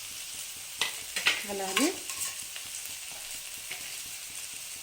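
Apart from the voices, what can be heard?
capsicum and cabbage stir-frying for veg noodles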